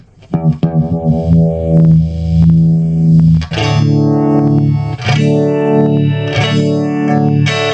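Loud electric guitar through a fuzz pedal after a Nux Mod Force modulation pedal, thick distorted sustained notes with a sweeping, swirling modulation that rises and falls in waves.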